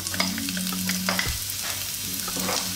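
Garlic sautéing in oil in a wok, with a busy sizzle broken by stirring scrapes and clatters, close and fairly quiet, no voices.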